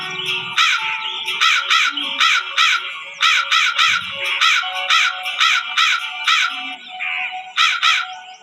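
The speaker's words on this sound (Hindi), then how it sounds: "कौवा अपने पैर से रोटी दबाकर बेसुरी आवाज में गाने लगा" A crow caws repeatedly in harsh, rhythmic bursts, loud and close, with brief pauses between calls.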